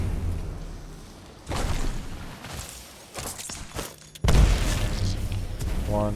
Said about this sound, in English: So what if I throw the grenade on top of the little pillar thing?